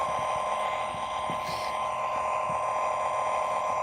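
A LionChief Plus BNSF toy train engine emits a continuous electronic beeping tone, steady and fairly loud, with faint clicking and mechanical noises underneath and no speech.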